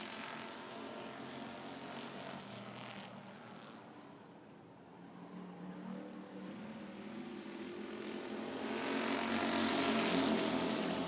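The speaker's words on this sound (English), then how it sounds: "As they thunder across the front straightaway once again" NASCAR weekly series stock cars at Hickory Motor Speedway thunder down the front straightaway, engine roar that dips and then swells louder toward the end as the pack passes close by.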